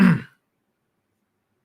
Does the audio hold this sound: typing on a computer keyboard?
no